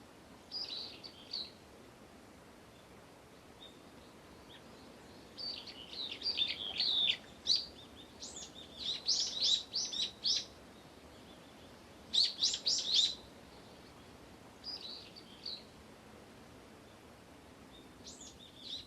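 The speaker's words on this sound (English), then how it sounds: "the sound of a bird, a single bird, and the bird song echoes over the hills" A single bird sings in short, bright bursts of chirping phrases, repeated at intervals across a quiet, open valley landscape with soft background hush.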